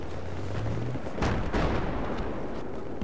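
Heavy gunfire and explosions in the video game Battlefield 3 multiplayer, a dense, continuous roar of battle with booming blasts rising over steady shooting.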